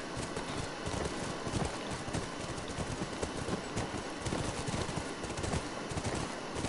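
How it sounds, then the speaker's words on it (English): Horse hooves clip-clopping in the video game The Last of Us, a brisk, steady run of clattering hoofbeats at close range that keeps going the whole time, with no talking over it. "That's our horse."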